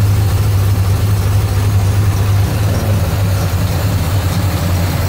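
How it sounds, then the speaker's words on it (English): A 1968 Pontiac GTO with a Ram Air II engine runs at fast idle with the fast idle solenoid activated. It gives a loud, steady, close low drone that holds even throughout, with no talk. "there's the engine with the fast idle solenoid activated."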